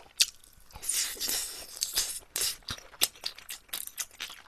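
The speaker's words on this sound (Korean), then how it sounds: "새우 양날로 씹히는 거 짱이다." Close, crisp crunching and biting of soy sauce marinated shrimp, heard as irregular bursts of brittle shell cracking with wet chewing in between, quiet overall and with no talking.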